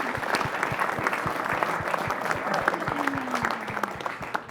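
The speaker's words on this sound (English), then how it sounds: "Okay, that deserves an applause." Steady audience applause at a climate conference panel, many hands clapping densely and evenly throughout, fairly close and filling the room; a brief low tonal sound passes underneath near the end.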